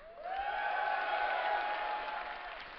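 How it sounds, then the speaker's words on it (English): A crowd cheering and applauding for a Zerg player at a StarCraft II tournament, MLG Dallas 2010, with sustained shouts and cheers over a wash of clapping that swells and then eases slightly. "let's hear a cheer for him"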